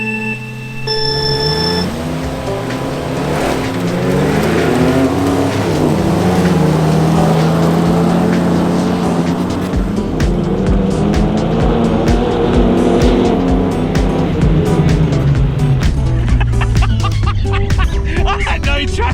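Ford XE Falcon racing with loud, sustained engine roar and wheelspin as it struggles for traction, the revs rising and falling with tire noise and clatter near the end.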